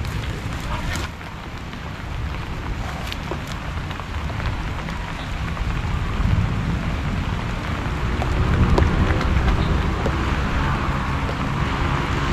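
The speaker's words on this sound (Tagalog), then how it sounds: "Lumalakas yung ulan mga kabida." Heavy rain pours steadily outdoors among tall plants, a dense continuous roar that builds slightly stronger toward the end, with no talking.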